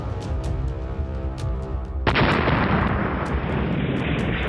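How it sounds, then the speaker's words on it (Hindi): Security forces in Jammu and Kashmir detonate a car packed with IEDs. About two seconds in, a sudden loud blast hits and gives way to a sustained broad roar after a quieter rumbling lead-in. "सुरक्षा बलों ने धमाके से उड़ाई आईईडी से भरी कार।"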